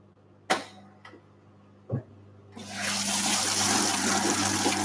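A Simpson Esprit 550 washing machine spraying water during its shower rinse: a few sharp clicks and thuds, then a steady loud rush of spraying water.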